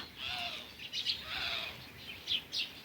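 Sparrows chirping and twittering in short, bright bursts over a soft village background, several calls overlapping at moderate distance.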